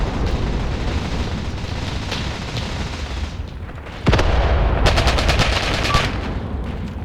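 Sustained gunfire in the Graviteam Tactics war game, set during a village assault, with a dense rumbling barrage and then a loud burst of rapid machine-gun shots in close succession from about four seconds on.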